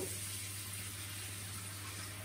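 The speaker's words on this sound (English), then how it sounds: "Now let's wash our hands real quick." A kitchen tap runs in a steady, even hiss of water for hand washing, faint and continuous with a low hum beneath, no talking.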